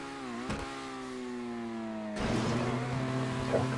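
A racing car engine in GTA Online drones with a steady mid-pitched whine, shifting and then surging louder as the car accelerates, with no voices.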